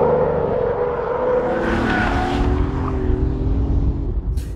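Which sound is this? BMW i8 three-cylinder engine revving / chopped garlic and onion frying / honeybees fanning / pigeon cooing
BMW i8 three-cylinder engine revving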